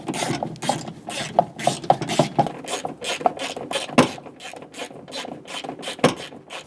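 Bolts being snugged down on the rear window regulator assembly of a 2003-2008 Honda Pilot, giving close, rapid ratchet clicks and scraping metal in repeated short bursts.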